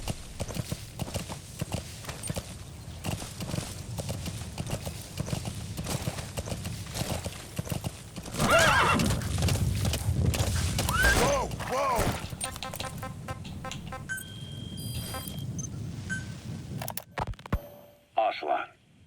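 A horse gallops in Metal Gear Solid V: The Phantom Pain, a fast, loud drumming of hooves that swells, then breaks off into clatter and brief electronic game sounds near the end.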